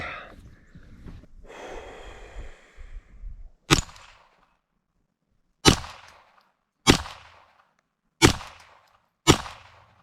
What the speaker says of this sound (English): we're gonna start off by practicing on a few little steel spinners first, get this gun warmed up